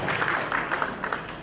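Audience applause at an Indonesian stand-up comedy show, a short burst of dense clapping that stays steady and fairly loud throughout.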